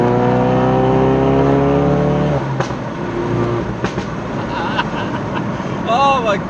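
Loud Ford Focus RS engine and exhaust, a strong steady harmonic drone rising in pitch for the first two seconds, then dropping off with sharp crackles and pops over lighter road noise, with brief voices near the end.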